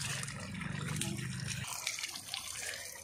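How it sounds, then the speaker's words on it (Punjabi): Water splashing continuously as buffaloes are bathed outdoors in a village, a steady rushing wash with scattered splashes, fairly close and without pause. "ਮੱਝਾਂ ਨਵਾਈ ਜਾ ਰਹੀਆਂ"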